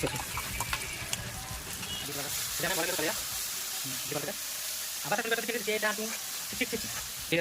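Onion and garlic paste frying in a pan over browned onions, a steady sizzling hiss with intermittent stirring clatter and a voice speaking over it.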